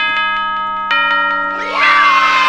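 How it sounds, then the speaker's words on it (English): Children cheering as a game sound effect in the horror game Friday Night at Freddy's: bright chime tones ring out, then a loud burst of young voices cheering swells in and holds to the end. "Never has the sound of children cheering been so delightful to my ears."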